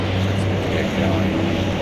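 Turboprop engines of a DeHavilland Dash 7 airliner spooling up in a flight simulator, a steady droning hum with a low tonal whine, loud and continuous with no speech over it.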